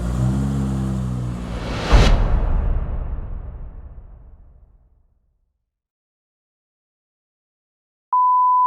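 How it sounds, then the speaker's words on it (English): A Toyota Supra with a 2JZ engine runs loud and close, then a sudden sweeping whoosh as it revs and fades away, followed by silence and a closing steady electronic tone. "Fires right up, baby."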